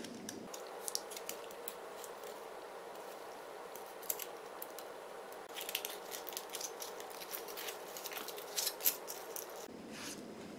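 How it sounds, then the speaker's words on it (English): Scissors trim foil on a homemade cell phone safe, giving quiet, close snips and crinkly rustles in irregular bursts, with a short louder handling noise near the end. "I'm just going to trim this foil away from those and peel that away."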